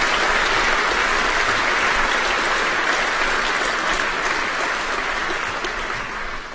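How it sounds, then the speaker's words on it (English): A graduation ceremony audience of families and friends breaks into loud, dense applause, a sustained roar of many hands that stays strong and fades only slightly toward the end. "Give yourself a round of applause"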